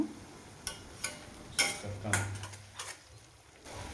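A spatula clinks and scrapes in scattered light taps against a pan as spices are roasted for a jackfruit curry, quiet and close, with no talking.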